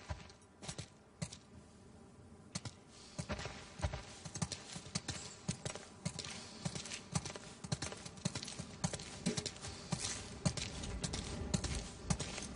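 Horses' hooves clip-clop steadily in The Last of Us Part II, a rapid, uneven stream of close hoof strikes with no talking.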